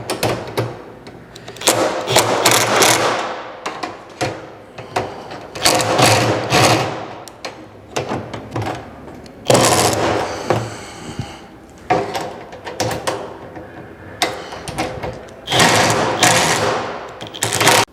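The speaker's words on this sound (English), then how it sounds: "I'm going to take the impact and lightly tighten everything up" An impact driver lightly tightens hardware on a plastic poly hopper, firing in repeated loud rattling hammering bursts of a second or two with short pauses, close by.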